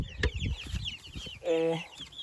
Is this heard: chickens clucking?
yes